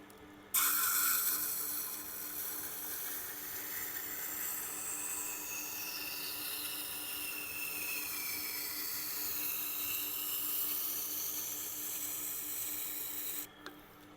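A ceramic knife is ground on a silicon carbide wheel of a Tormek sharpener, a continuous steady rasping hiss lasting over ten seconds, close and even, starting and stopping abruptly.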